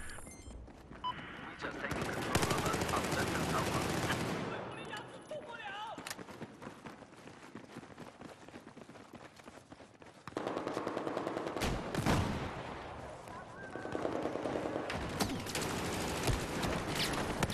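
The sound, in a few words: gunfire in the video game Battlefield 4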